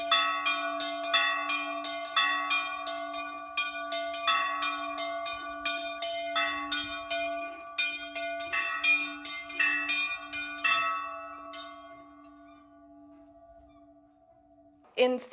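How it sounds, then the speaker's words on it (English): Church bells ring from a belfry on Hydra, Greece, rung by hand with strings, in a quick, repeated pattern with long sustained tones humming beneath, then the peals fade out near the end. "There are strings and the string man like plays the bells."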